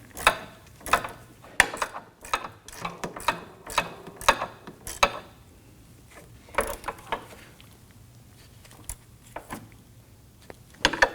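Ratchet wrench tightening a sway bar link nut on a Nissan Murano: bursts of sharp clicking strokes in irregular groups, close and fairly quiet, with pauses between.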